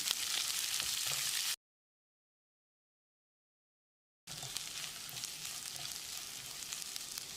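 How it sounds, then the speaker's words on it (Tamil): Three large onions, sliced lengthwise, sauté in a pan with asafoetida for a chutney, giving a steady close sizzle and frying hiss that breaks off into a silent gap before resuming. "வெங்காயத்தை கண்ணாடி பதத்துக்கு வதக்கினாலே போதும்."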